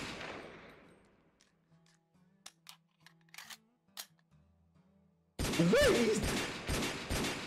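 Gunshots in an anime episode ring out as sharp isolated cracks amid quiet stretches, then a loud dense burst erupts near the end, with a voice briefly shouting in the clip.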